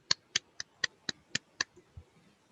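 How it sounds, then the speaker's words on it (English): Applause in an online Toastmasters-style meeting comes through as a short run of about seven sharp, evenly spaced claps, close and clear, with no crowd behind them. "Let's give them a round of applause."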